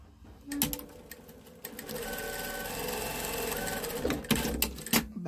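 A sewing machine stitches a seam on a fabric memory bear, a close, steady mechanical whir with rapid needle clatter, briefly starting and stopping near the end as if back-stitching.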